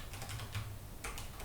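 Close, quiet keystrokes on a computer keyboard come in a few quick clusters of light clicks with short pauses between them, while SQL code is being entered.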